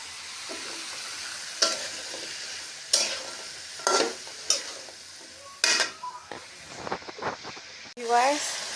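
Shrimp and drumstick vegetable stir-fry in a pan with a steady sizzle broken by repeated sharp spatula scrapes and stirs, while a voice speaks over the cooking.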